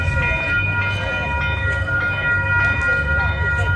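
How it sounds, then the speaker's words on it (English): A train pulls into an old station where people stand and watch, its steady rumble and squealing wheels heard close and continuous, with tonal screeching and a faint clatter, with some talk audible in the background. "The train's coming."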